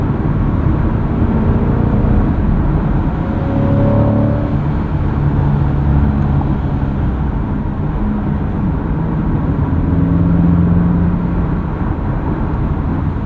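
A 2025 Chevrolet Corvette Stingray engine runs steadily and loudly throughout, with shifting tonal bands as it revs and pulls, plus constant road and tire rumble.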